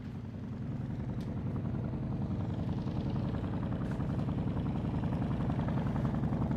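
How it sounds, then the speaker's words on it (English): The B-17 bomber Sally B flies overhead at a VE Day air show, its propeller engines making a steady, fairly faint, low droning rumble that holds evenly throughout. "As Sally B passes majestically overhead to go and hold to the north"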